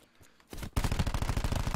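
A quick, loud burst of rapid automatic gunfire in Call of Duty Black Ops 4 Blackout, starting after a faint half-second and firing in a fast rhythm to the end.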